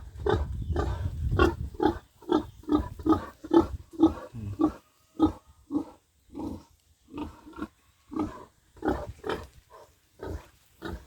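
A sow in a new farm pen gives a series of short, close grunts in uneven bursts, each a brief throaty oink, repeating through the clip with quiet gaps between.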